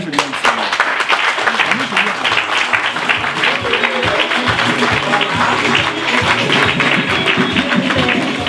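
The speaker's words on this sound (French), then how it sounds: "et un applaudissement quand même" Audience applause greeting a musician at a French cultural talk, sustained loud clapping from a crowd filling the room, with voices talking over it.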